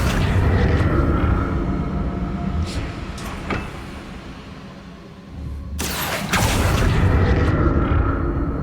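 A Confringo fire-blast spell going off in Hogwarts Legacy, a loud broadband whoosh and boom at about six seconds over dense game rumble and ambience, with a quieter burst earlier.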